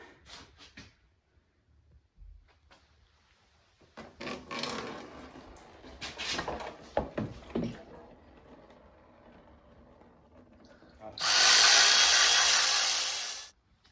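A 22R motor being torn down: scattered metallic knocks and clatter, then a loud, steady power-tool whir lasting a couple of seconds as bolts come off, close up with no clear speech.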